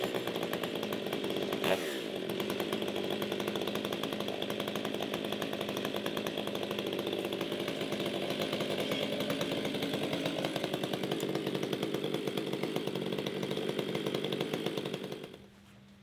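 A chainsaw on an Alaskan sawmill milling lumber runs at full throttle in a steady, loud, buzzing drone for about fifteen seconds, then winds down abruptly to near quiet.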